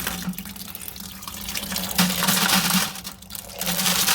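Running tap water pours over tumbled rose quartz rocks being rinsed, a steady close splashing rush with a low gurgling hum, with no talk.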